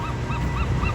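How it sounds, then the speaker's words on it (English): Geese honk in a steady series of four nasal calls over a constant background wash, like surf. "Birds are making noises."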